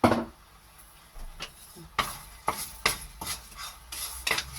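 Brown sugar and coconut filling for Thai khanom tom simmers in a pot while a spoon scrapes and stirs in uneven strokes, a faint bubbling beneath the repeated clinks and rubs.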